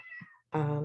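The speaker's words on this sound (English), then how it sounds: "If you hear my cat in the background, he's meowing." A pet cat meows twice, a faint short call followed by a loud, drawn-out meow close to the microphone, heard alone without talk.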